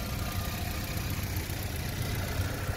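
A 2013 GMC Terrain SLT with its EcoTec engine idles steadily under an open hood, a close, even mid-low hum with a faint rhythmic pulse and no talking.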